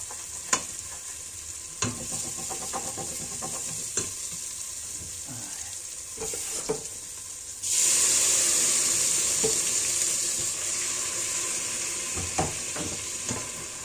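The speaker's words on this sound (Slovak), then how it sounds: "zalejeme troška vodou, nie hneď" Frying meat in a pan sizzles and is stirred with a few scraping knocks, then water is poured in, bringing a sudden louder, steady hiss of boiling sizzle that continues to the end.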